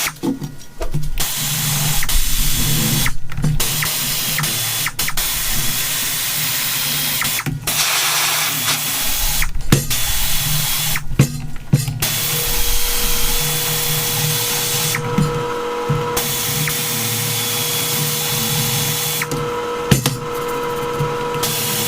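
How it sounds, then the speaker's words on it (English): A pneumatic air drill whirs and grinds against a Kubota tractor's metal front wheel rim in bursts, with sharp pauses and restarts over a constant mechanical hum. "we got it on an air drill, so he's going to work on getting the rim."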